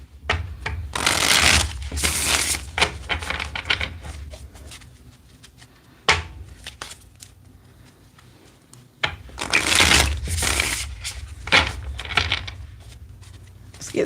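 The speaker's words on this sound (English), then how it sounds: "Let's get 3 more shuffles here." Bursts of cards being riffle-shuffled, a few separate shuffles with brief pauses between them, close and fairly loud.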